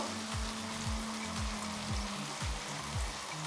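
A spice paste with fried ginger, garlic and tomato sizzling steadily in a pan, with a soft crackle throughout and a regular repeating scraping rhythm from stirring.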